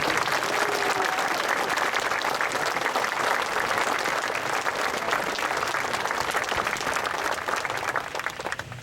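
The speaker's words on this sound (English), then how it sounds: "Please, hand of applause," Sustained applause from an outdoor crowd at a Memorial Day ceremony at the Mt. Soledad Veterans Memorial, a steady dense clapping at even loudness that runs the whole time and eases slightly at the end.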